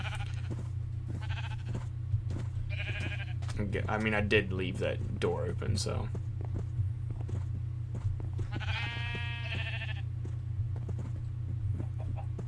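Blocky Minecraft sheep bleat a few separate times over a steady low hum, while someone talks at length between and over the calls.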